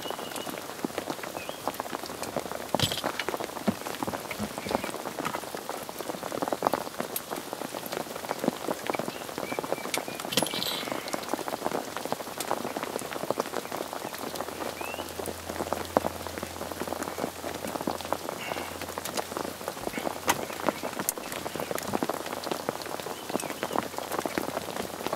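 Steady rain falling outdoors at night, a dense continuous patter of drops hitting surfaces with occasional louder splashes, constant and even throughout with no talk.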